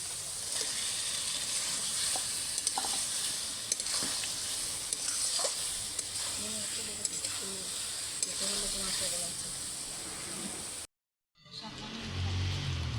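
Potatoes go into a pan of hot spice mix for a vegetarian potato curry, a continuous close sizzle and hiss with light stirring scrapes, briefly cutting out near the end before resuming; no talk.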